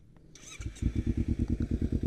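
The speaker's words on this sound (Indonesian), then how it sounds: "buat kalian yang belum dengar suara motornya" A motorcycle with a loud racing exhaust starts up and settles into a rapid, throaty idle, pulsing evenly and close by.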